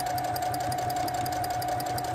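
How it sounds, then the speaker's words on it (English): A sewing machine stitching fabric scrub caps hums steadily with a fast, even mechanical chatter, close and continuous. "I'll be using the sewing machine most of the time."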